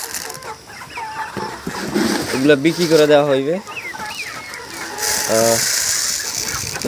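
Tiger breed roosters cluck and call repeatedly in a loose, irregular rhythm from close by, mixed with someone talking over them.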